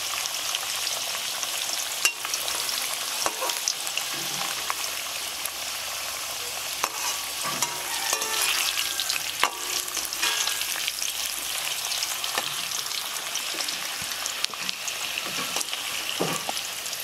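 Food sizzles steadily in a hot pan during Bengali home cooking, with scraping stirring strokes throughout and no voices.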